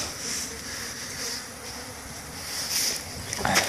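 Honeybees fly around beehives in early March on their cleansing flight, a steady close buzzing hum that swells and fades slightly, with no talk.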